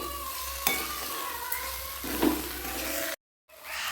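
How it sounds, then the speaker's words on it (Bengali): Potato, cauliflower and carrot fry with spices in a pan, sizzling steadily under occasional scrapes and knocks of a stirring spoon. A brief silent gap comes near the end before the sizzle resumes. "আলু ফুলকপি গাজরটা দিয়ে খুব সুন্দরভাবে মশলাটা কষে নিয়েছি"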